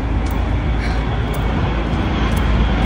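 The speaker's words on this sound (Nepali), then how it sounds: "प्लेन आयो कत्रो ठुलो प्लेन" A large airplane passes overhead in a low, broad rumbling roar that holds steady and fairly loud throughout.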